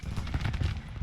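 Cavalry horses charge in the Civil War strategy game Grand Tactician, a brief close rumble of massed hooves thudding low and heavy without pause.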